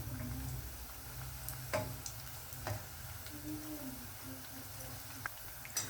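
Bajji (pakora) deep-frying in hot oil over a medium flame, a steady faint sizzle with a few soft clicks and taps of turning, no talking over it.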